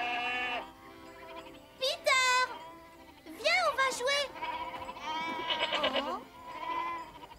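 Several goats bleat in short, wavering cries at varying pitches, some overlapping, close and fairly loud over a faint steady hum.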